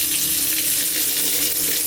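Steady, loud rush of water pouring at maximum flow from a LIDL Miomare thermostatic bathtub faucet, a continuous close splashing hiss with no pauses.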